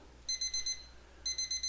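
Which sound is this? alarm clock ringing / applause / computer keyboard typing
alarm clock ringing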